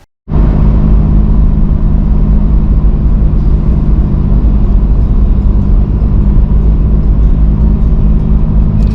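A car cruising a Smoky Mountains road in spring behind a dump truck, its engine and road rumble loud, close and steady after an abrupt start, with no talking.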